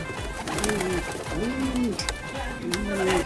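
Pigeons in a loft give repeated low, throaty coos, several overlapping calls close by against a faint background hum.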